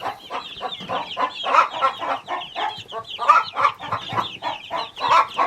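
A mixed flock of backyard egg-laying chickens clucks busily nearby, many short overlapping clucks and murmurs in an uneven, continuous chatter with no talking.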